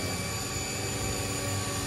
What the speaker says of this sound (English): That's a 5-axis CNC, cutting like crazy.